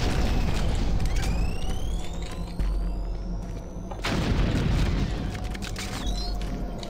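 Heavy, booming blasts in Doom 3: The Lost Mission, fighting shielded enemies amid mechanical hums and whirring effects. A deep explosion lands midway and another near the end, both loud and close, over a constant dense rumble.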